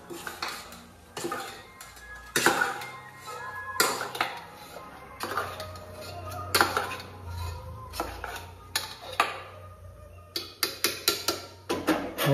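Maggi noodles with tomato and coriander stirred in a metal pot, a busy run of spoon scrapes and clanks against the pot, irregular and close, louder in quick bursts toward the end.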